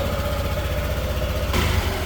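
A small scooter engine idles steadily and close by during a tune-up, with a low rumbling pulse that grows slightly rougher and louder near the end.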